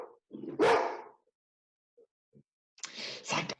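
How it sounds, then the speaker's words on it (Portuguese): A dog barks close by in two short bursts separated by near silence, with a few faint yips or whimpers in between. "Ah, meu cachorro vai latir."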